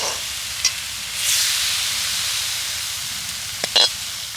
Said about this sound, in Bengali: নাড়তে নাড়তেই পুরটা তৈরি হয়ে যাবে।